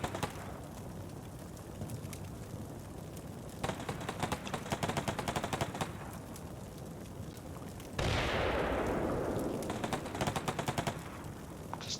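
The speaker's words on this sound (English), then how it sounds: "Explosion, internal explosion." Combat Mission Shock Force 2 wargame battle with an internal vehicle explosion: a sudden loud blast swells over continuous rattling gunfire and rumbling combat noise, with no talking.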